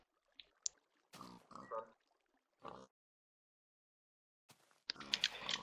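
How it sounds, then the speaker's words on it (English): Wild pigs grunting and oinking in a survival video game, in short separate bursts with gaps of silence between them, with a livelier burst of sound near the end. "Pigs!"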